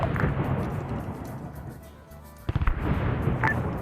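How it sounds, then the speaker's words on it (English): A grenade explodes in the Vietnam War game SOG, a sharp close blast with rumbling aftershocks and scattered popping gunfire amid battle noise and muffled talk. "That's a grenade"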